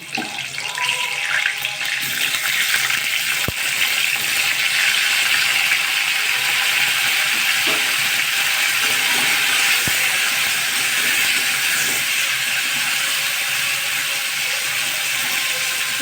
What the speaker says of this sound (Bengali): ফুলকপিগুলো ভাজা করে নেব